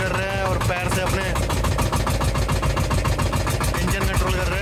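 Boat engine running loud and steady on backwaters at Honnavar, a rapid pulsing mechanical chug with a metallic clatter, close by, with a voice talking over it.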